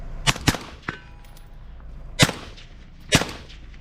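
Sharp, cracking shots from an Evolve Weapons Systems E-15 rifle: two quick rounds, a lighter third, then two more spaced well apart, each loud and abrupt over a low background rumble.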